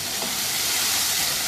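Mutton liver (kaleji) fries in a pan with a dense, continuous sizzle and hiss, close and steady throughout the short stretch, with no talking.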